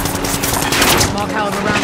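Small-caliber gunfire in a video game: loud, dense rapid-fire bursts that run almost unbroken through the whole short stretch, close and harsh, with no clear pauses between shots.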